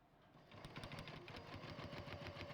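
A sewing machine runs steadily, stitching along a marked line on paper with a close, even mechanical whir and a rapid regular needle rhythm, no voices.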